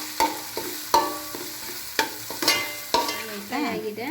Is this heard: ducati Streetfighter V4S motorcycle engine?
no